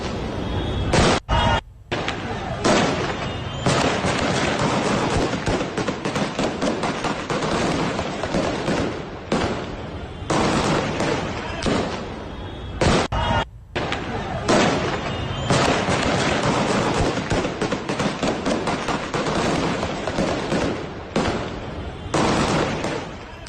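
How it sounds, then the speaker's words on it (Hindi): Heavy, sustained gunfire in Afghanistan as Taliban fighters shoot at protesters: dense, continuous bursts of loud shots and cracks with almost no pauses, mixed with crowd noise throughout. "देखिए किस तरह से तालिबान ने जबरदस्त फायरिंग की है"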